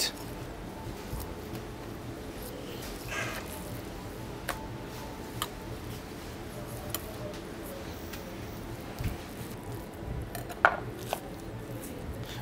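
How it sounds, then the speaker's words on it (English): A knife trimming a veal fillet on a board, with scattered soft clicks, taps and occasional sharper knocks of the blade and utensils, close and fairly quiet, with no talking. "So I'm starting to trim the veal fillet."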